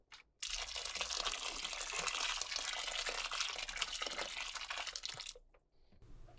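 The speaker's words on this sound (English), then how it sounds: "Mix that in before adding a good amount of boiling water to top of the pot." Boiling water is poured into a soup pot while making chicken potato soup, a continuous splashing, gurgling stream lasting about five seconds before cutting off, close and moderately quiet with no talk.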